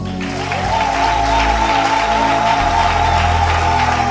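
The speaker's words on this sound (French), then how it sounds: "Nous les acclamons encore." Church congregation applauding steadily, a dense, loud wash of clapping that holds for the whole stretch, with a sustained musical tone or organ-like drone running underneath.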